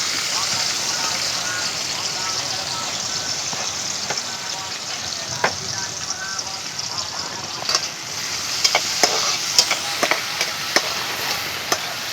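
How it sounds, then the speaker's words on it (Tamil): Onions and green chillies frying in oil for a village-style mushroom gravy, giving a steady broadband sizzle with scattered sharp crackles and spatters that grow busier toward the end, close and fairly loud. "தேவையான அளவு எண்ணெய். வெங்காயம் பச்சை மிளகா போடுறோம்."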